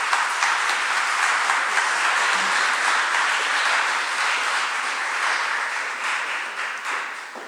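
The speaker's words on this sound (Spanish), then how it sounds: "Los aplausos son para Jessica" Seminar audience applauding, a dense, even wash of clapping from many hands that holds steady and eases off slightly toward the end.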